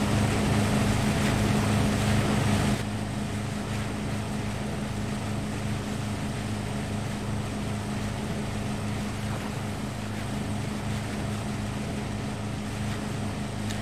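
A steady, droning motorboat engine hums continuously at close range, with a constant low throb and no voices.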